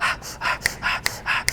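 A rapper performs a breathing ad-lib: rhythmic, close heavy breaths in repeated bursts, with sharp sniff-like accents between them, loud and alone without speech.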